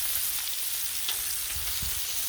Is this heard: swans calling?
no